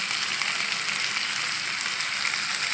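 Steady, close sizzling of food frying in a pan while cooking paneer dum biryani, a dense, even hiss that runs unbroken and alone for the whole stretch.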